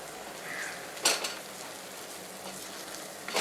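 Onions or masala being sautéed in a heavy pot for Tamil-style prawn biryani, a soft steady sizzle with a couple of sharp utensil scrapes and clinks against the pot, close and fairly quiet.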